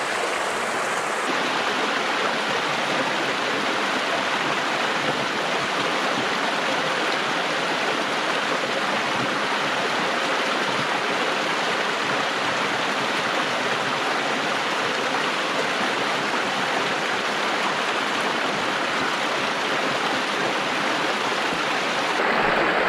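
Mountain stream water rushes steadily in the Coniston Fells, a constant broadband rush close by that runs unbroken the whole time, with no voices heard.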